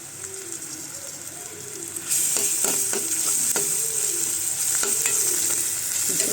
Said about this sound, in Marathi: कांदा भाजत आल्यावर आपण आलं लसणीची पेस्ट घालायची थोडीशी.